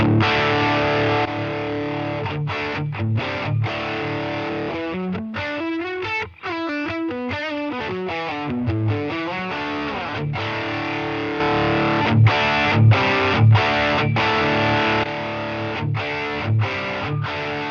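A heavily distorted electric guitar plays through an amp modeler with a stereo imager effect, sounding loud and saturated. Sustained chords alternate with choppy, rhythmic stabs and short muted gaps, and nobody talks over it.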